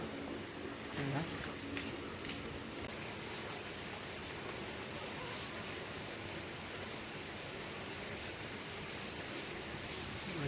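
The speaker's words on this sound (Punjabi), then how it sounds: "ਚੰਗੀ ਤੇਜ਼ ਬਾਰਿਸ਼ ਹੋ ਰਹੀ ਹੈ ਜੀ।" Heavy rain pours steadily over a village, a dense, even hiss of drops on surfaces that stays loud and constant throughout, with no distinct voices over it.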